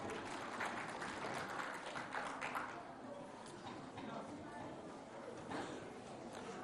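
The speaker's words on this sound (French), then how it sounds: "On les applaudit bien fort." Sustained applause from a crowd, a dense steady clatter of clapping with a voice faintly mixed in.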